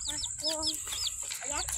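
A chicken in a garden clucks several times in quick, chirpy bursts, fairly close, over a low background murmur.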